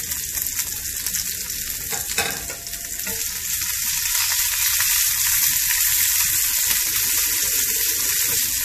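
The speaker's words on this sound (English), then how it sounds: "We shall now wait for the onions to cook till they are brown." Onions frying in a pan for a sour spinach curry, made with grated dry chili: a steady, close hissing sizzle, briefly stirred early on, then running evenly on its own with no talk.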